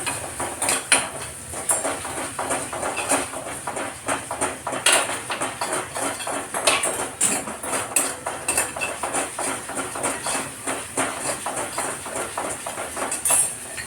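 Capsicum being sautéed in butter in a pan alongside green chillies and ginger for a butter Manchow soup, heard as steady clinking of a spoon on cookware with a low sizzle beneath, no talking.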